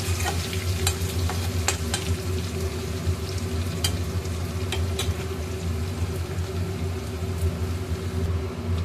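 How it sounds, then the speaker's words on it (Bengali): A generous amount of garlic frying in oil with dry chillies and bay leaves for an egg curry, a steady close sizzle under a low hum, with occasional sharp scrapes of the stirring spoon and no talking. "এইবারে আমি রসুন দিয়ে দেবো তেলের মধ্যে।"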